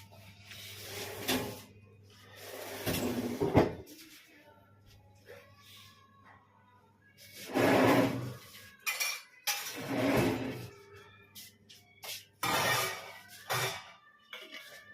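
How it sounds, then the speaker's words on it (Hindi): Clean steel dishes and utensils clatter and clank as they are stacked into a kitchen rack, in several loud bursts separated by quieter handling. "जो बर्तन कल के साफ होके रखे गए हैं नारी सशक्तिकरण के द्वारा, अभी चल रहा है पुरुष सशक्तिकरण, आपके मनोरंजन के लिए उन बर्तनों को मैं रैक में लगा देता हूँ।"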